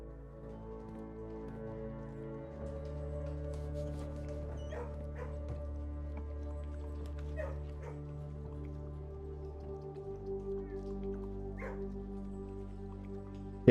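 A dog in the kennel room of the video game Blue Prince gives soft yips and whimpers. They are faint and scattered over a steady low droning background hum.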